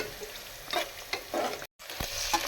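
Onions fry in oil for egg biryani, a close, busy sizzle with stirring scrapes that rises and falls, cut by a brief moment of total silence before resuming.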